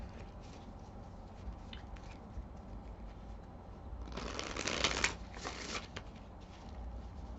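Tarot cards are shuffled for a reading, giving a soft, close riffling burst of papery flutter in the middle after quieter handling rustle, with no talking.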